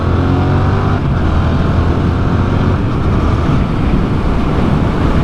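Motorcycle engine pulling hard as the bike accelerates along a road, a loud continuous roar with strong wind rush, steady throughout and close to the rider.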